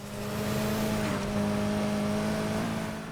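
Mitsubishi Evo X engine in the racing video game Need for Speed Heat, a steady sustained drone with held tonal harmonics, slight pitch shifts as it races, continuous and fairly loud with no talking.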